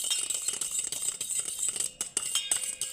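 A spoon stirs salt into hot water in a bowl while a natural indigo hair dye is being prepared. Quick repeated metallic clinks and scrapes sound close up and continue steadily without any talk.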